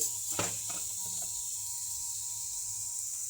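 Onion and garlic frying together in a pan give off a steady, even sizzle, with a couple of brief stirring clinks near the start and no talking.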